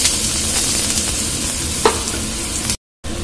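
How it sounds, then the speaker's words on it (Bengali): Chopped onions dropped into hot oil hiss in a loud, continuous sizzle close by, with a brief stirring clink partway through and a short cut to silence near the end. "তেলের মধ্যে পেঁয়াজ কুচি দিচ্ছি"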